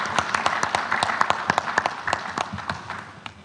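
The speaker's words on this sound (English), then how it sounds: "Can we have another round of applause" A room of people applauds, a dense patter of many hands clapping at once, moderately loud and steady, with no talking over it.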